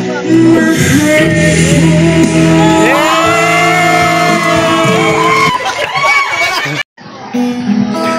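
An audience at a grand champion performance shouts and whoops loudly, a crowd cheering close by with bellowed calls, ending abruptly before a brief quieter stretch.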